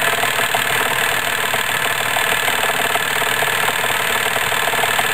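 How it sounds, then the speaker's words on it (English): An electric motor driving a stepper-motor generator, a steady loud mechanical whir with a faint rhythmic knock, running unbroken and close with no talking. "shut down the motor"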